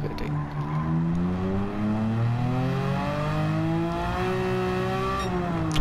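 A Porsche-engined, engine-swapped VW Beetle in Gran Turismo 7 revs hard and continuously, its pitch climbing and easing through gear changes, loud and close with no talk.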